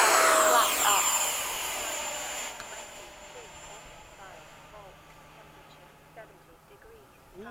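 An F/A-18 jet takes off after dark, a loud roaring engine rush that fades steadily into the distance, with people talking over it from inside.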